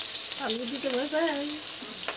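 Potatoes frying in a pan give a steady, close, loud sizzle throughout, with a brief voice-like tonal sound rising over it partway through.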